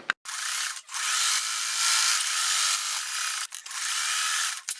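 Fabric at the edge of a crazy-quilt block being trimmed, heard as a steady, close, bright hissing cut that runs in long strokes with brief pauses between passes.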